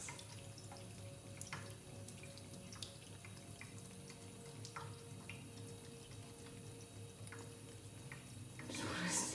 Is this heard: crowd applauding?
no